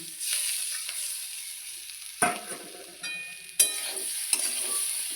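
Peanuts and soaked large-grain sago stirred in a hot pan for sabu pulao, with a steady low sizzle and a few sharp scraping strokes of the spatula, close up, no talking.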